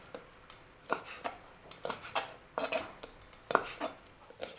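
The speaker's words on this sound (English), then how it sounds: "First, you cut it into small pieces first." A knife cuts raw, shelled king prawns into small pieces on a board, giving a steady run of sharp, close taps and clicks in an uneven rhythm, with no talking.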